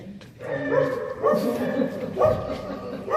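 Several dogs of different sizes, big and little, barking and yipping in short bursts indoors at close range, with some whimpering between barks.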